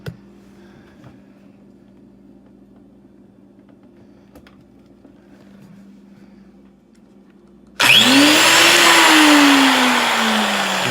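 A rebuilt grinder motor, plugged back in for a test after repair, abruptly starts up with a loud steady whine that rises in pitch as it spins up and then holds a strong, even running tone.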